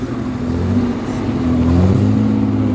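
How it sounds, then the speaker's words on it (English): An Austin Healey straight-six engine burbles loudly at a transport festival, a rich, steady low rumble that swells slightly as it revs a little, heard up close with no voices. "The big Healy, the Austin Healy, lovely straight six Burble"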